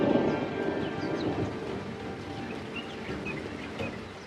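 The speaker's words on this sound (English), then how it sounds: "Rain transforms the plains once more." Rain falls steadily across open African plains during a thunderstorm, a broad hiss with low rumbling underneath and faint birdsong scattered on top, constant from start to finish.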